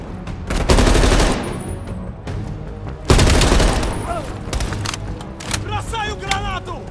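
Heavy machine gun fire on a ridge in Call of Duty: Black Ops Cold War, two loud sustained bursts of rapid shots with a pause between, followed by scattered distant fire and voices shouting over the battle.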